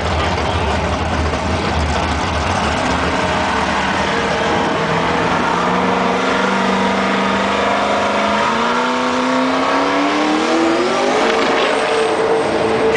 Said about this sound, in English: Just in lane number one, driving Hurricane, big turbo Mustang.